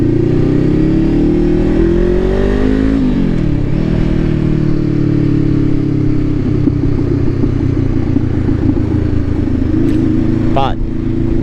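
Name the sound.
Nissan 370Z sports car engine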